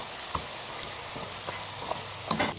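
Ginger pieces frying in hot oil, a steady soft sizzle throughout with a few faint clicks and stirring taps, growing slightly busier near the end.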